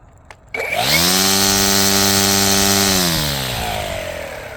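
A 56-volt brushless string trimmer with a 5 amp-hour battery spins up from a click to its high-speed setting, a loud, steady, close motor whine that holds and then slightly eases.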